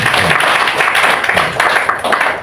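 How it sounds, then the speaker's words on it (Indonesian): Audience applause for the priests at a Catholic group's presidium election gathering, a dense, steady wash of many hands clapping held evenly across the whole span without a break. "Kita tepuk tangan dulu untuk mereka"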